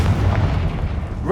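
A Confringo blast spell exploding in Hogwarts Legacy, a loud, low, rumbling boom that fills the short moment, with speech faintly mixed in.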